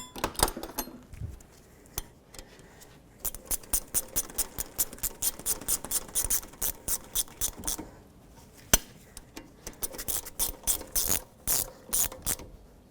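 A ratchet tightens the rear brake caliper bolts on a 2003-2007 Nissan Murano, quick runs of sharp clicking from close by, broken by short pauses and single clicks, with no talk.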